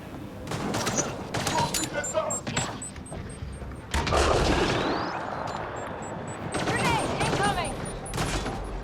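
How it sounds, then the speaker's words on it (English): Grenade blasts and rapid gunfire in a Mass Effect Andromeda firefight on planet Eos, with several loud booms and bursts of shots and bright game effects, and a voice talking over the combat throughout. "Grenades and incoming."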